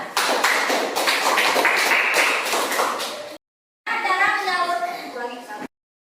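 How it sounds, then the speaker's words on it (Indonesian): Students in an Indonesian classroom clap together for about three seconds during a lesson on electric power distribution; the clapping is dense and fairly close, then stops abruptly, and a voice follows after a short pause. "Oke, kasih tepuk tangan."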